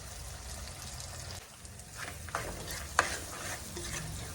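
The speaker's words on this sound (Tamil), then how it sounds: "வெங்காயம் நல்லா வதங்கிட்டு வருது பாருங்கள்" Onions sautéing in oil for a Tamil-style goat boti gravy, a steady low frying hiss with soft stirring scrapes and a couple of sharper clinks near the end, close and moderately loud.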